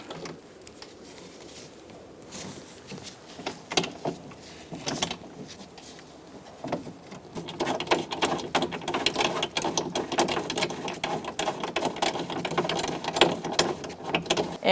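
Socket ratchet clicking in bursts while a bolt is run into a front window regulator inside the door of a 2002-2006 Honda CR-V, close and moderately loud, getting busier and denser in the second half.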